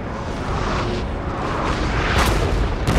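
Cannon fire on a Napoleonic battlefield in the strategy game Napoleon Total War, a continuous rumbling roar of booms with sharper bursts near the end, loud and close.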